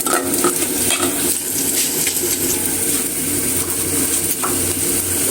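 Onion sizzles in hot oil in a pan after fried fish, stirred with a utensil that clinks and scrapes against the metal over a steady loud frying hiss.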